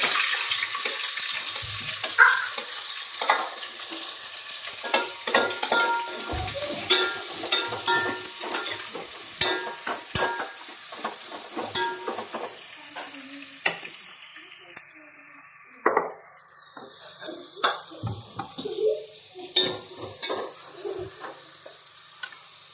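Chillies and onion go into hot oil for biryani, setting off a loud crackling sizzle that slowly settles, with frequent clattering stirs, taps and scrapes of a utensil in the pan across the whole stretch and no talking.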